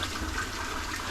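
Running tap water gushing steadily as hands are washed, a close, continuous splash with no voices.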